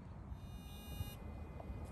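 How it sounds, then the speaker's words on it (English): A gopher repeller sonar device in a backyard garden gives off a faint, steady high-pitched electronic buzz and whine, quiet against the low outdoor background. "That noise you hear is a gopher sonar thing."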